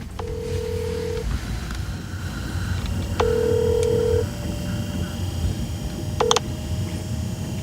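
Telephone ringback tones repeat unanswered over a low background hum, each a steady beep lasting about a second, followed near the end by a short, sharper tone cluster like a voicemail beep. Faint background voices sit underneath.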